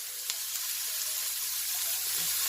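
Burger patties sizzle steadily in an oiled pan, a close, continuous hiss and crackle of frying with no voices over it.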